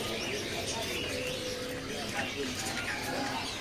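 Caged birds chirp and coo at a bird kiosk, steady overlapping calls filling the background while a voice talks over them.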